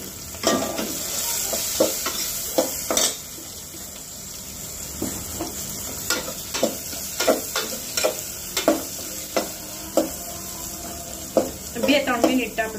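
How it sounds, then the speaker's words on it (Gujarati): Chillies frying in oil with mustard seeds, cumin, asafoetida and turmeric, a continuous close sizzle broken by repeated sharp stirring and scraping strokes of a spoon against the pan. "બે ત્રણ મિનિટ આપણે એના મરચા શેકીને તળીએ"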